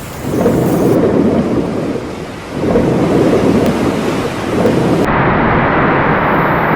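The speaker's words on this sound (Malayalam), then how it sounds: "അവിടെ തന്നെ കനത്ത മഴ എന്ന് വെച്ചാൽ കനത്ത മഴയാണ് കേട്ടോ" Heavy rain pours steadily in a loud, dense roar at night near fishing water, with deep thunder rumbles swelling and fading in waves beneath the downpour.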